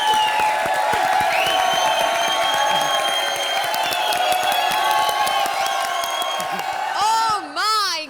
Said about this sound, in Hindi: हमारी वजह से तालियां बजाओ